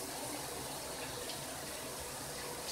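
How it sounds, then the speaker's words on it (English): Tap water runs steadily from a faucet into a sink while waiting for it to heat up, a constant close broadband rush with no talking. "So, I have my water getting hot."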